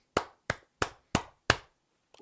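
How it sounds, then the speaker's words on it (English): Five sharp, evenly spaced hand claps ring out close and clear against silence, followed by a faint soft rustle at the end. "We'll give you a few claps."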